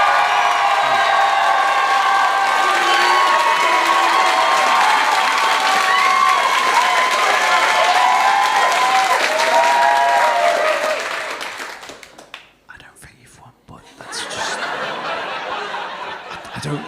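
Audience at a Beat The Frog comedy night cheering and applauding loudly, with whoops and laughter throughout, dying away briefly before a smaller burst of clapping returns.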